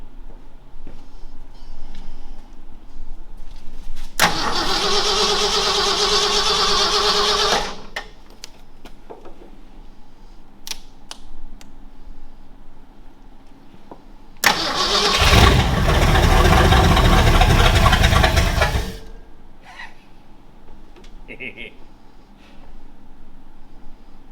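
A 1968 car engine cranks and catches twice: two loud bursts of starter-and-engine roar, the first lasting about four seconds and the second about five, each cutting off abruptly, with quiet garage background between them.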